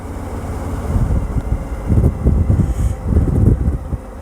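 A Suzuki V-Strom 1000 motorcycle cruising in fifth gear at about 2000 RPM, tested with a neutral map mod for snatchy throttle: a low, rumbling engine drone that swells in uneven pulses, blended with steady wind buffeting.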